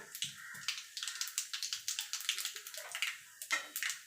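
Nigella seeds hit hot mustard-style oil left from frying eggplant for a tilapia curry, producing a quiet, rapid crackle of small popping and spitting bursts, close and continuous with no talking.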